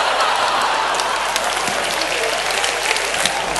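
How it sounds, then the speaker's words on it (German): An audience applauds in a dense, steady wash of clapping that carries at an even level from start to finish, close and loud, with no voices on top. "Danke für den Applaus, und Sie lachen."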